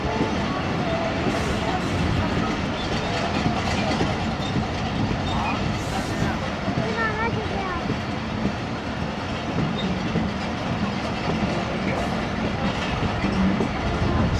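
Ghouri Express 113UP passenger train running on the rails near Sangla Hill Junction between Faisalabad and Lahore, a steady loud rumble and rattle of wheels and carriages throughout, with faint voices mixed in.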